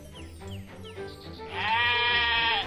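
Sheep bleat in a children's story scene, several short calls first, then one long, loud, wavering bleat close up.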